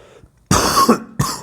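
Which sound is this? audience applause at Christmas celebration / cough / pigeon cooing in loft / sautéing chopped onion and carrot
cough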